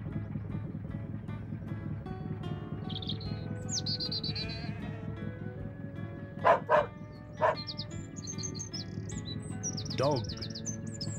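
Several short, sharp dog barks stand out partway through, heard over steady background music with chirping bird sounds.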